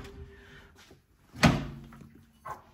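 A microwave door shuts with one solid thunk close by, surrounded by quiet handling noises.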